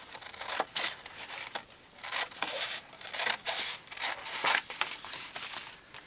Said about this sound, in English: Trim that back a bit. Let's just use scissors.